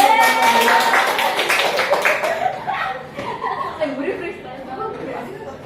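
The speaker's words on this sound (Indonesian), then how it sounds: "beri tepuk tangan" A primary-school class claps hands for a group's performance, a brisk burst of clapping that fades after a couple of seconds into chuckles and chatter, with a teacher talking over it.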